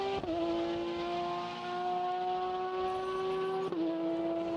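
A prototype race car's engine holds a loud, steady high-pitched whine through a corner at the 2019 Sebring 1000 Miles qualifying session, with a brief dip in pitch near the start and again near the end as it shifts, alone without talk.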